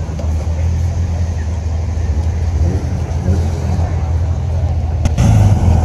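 Dodge Viper engine running roughly at idle, a loud, uneven low rumble heard close, with a short sharp bump near the end.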